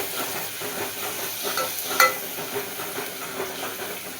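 Chopped onion stirred with ginger-garlic paste in an oily pan for a Kolhapuri mutton curry: continuous sizzling under repeated scraping strokes of a spoon, with one sharper clink of metal partway through.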